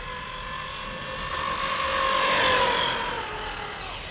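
Traxxas Maxx RC truck on a speed run with a 4-cell battery, a high electric motor whine that climbs in pitch and swells as the truck passes close, then fades away.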